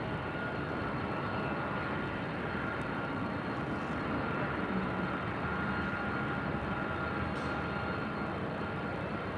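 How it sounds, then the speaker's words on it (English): An Emirates Airbus A380 taking off from LAX bound for Dubai produces a distant, sustained jet roar, a broad steady wash of engine noise that holds level for several seconds with no voices. "Emirates 37 Victor Super taking off to Dubai on the A380."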